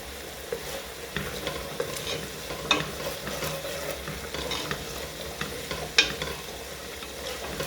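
Onions and garlic frying in a pan while being stirred, a low steady sizzle broken by scattered scraping clicks and taps of the utensil, fairly quiet and close.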